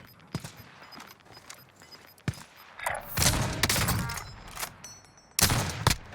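Call of Duty gunfire, scattered sniper shots at first, then a dense burst of rapid fire and a final loud volley.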